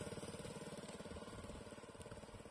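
Motorbike riding through a village on Penyengat Island, Indonesia: a faint, steady engine putter with a fast, regular pulsing beat that picks up slightly in pace, heard alone without talk.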